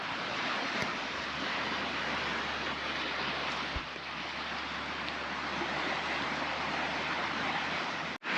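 Ocean waves wash steadily onto the shore at Portito in the Canary Islands, a continuous broadband roar of surf with light wind noise, close and fairly loud throughout, with no voices.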